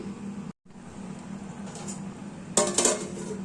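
A metal lid set onto a pot of prawn biryani, a brief clattering clink of metal near the end over a low steady cooking hum, close and moderately quiet.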